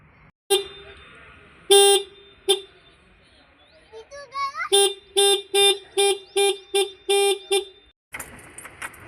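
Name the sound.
auto rickshaw being started, horn honking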